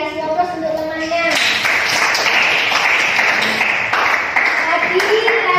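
A classroom of students applauds a classmate, a broad, steady burst of clapping lasting several seconds after a brief voice at the start.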